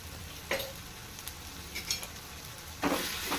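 A spoon stirs and scrapes egg masala curry spices, including coriander and cumin powder, in a hot pan, with soft sizzling and a few sharp scraping strokes over a quiet background.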